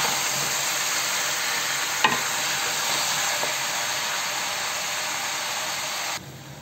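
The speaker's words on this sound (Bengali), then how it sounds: "হালকা করে নাড়া দিয়ে দিই" Mutton bhuna being gently stirred in a pan, a steady broadband sizzle of frying meat with a faint scrape or two of the spoon, close and continuous before cutting off near the end.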